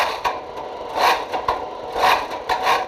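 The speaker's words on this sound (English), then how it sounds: "it makes up with a very beautiful exhaust note" A Jaguar XFR's supercharged 5.0-litre V8 exhaust sounds in close, repeated surges, swelling and easing roughly every half second to a second, with no voices.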